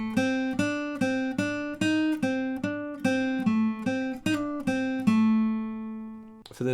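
Acoustic guitar picking a blues riff from a song lesson: a dozen clear, close plucked notes in a steady rhythm, ending on a sustained ringing note, with no talking.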